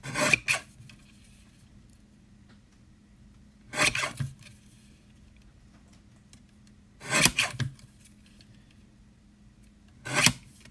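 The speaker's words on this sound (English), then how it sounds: "Oh, I want to trim this a little closer here." Scissors trim a Stampin' Up! paper craft piece, four short, quiet snipping and rubbing sounds spaced a few seconds apart over low background hum.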